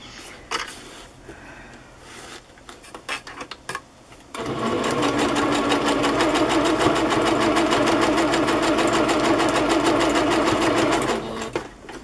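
A sewing machine stitches a lace doily onto a paper journal page, running in a steady, fast, even mechanical chatter for about seven seconds after some quiet handling clicks and rustles, then stopping.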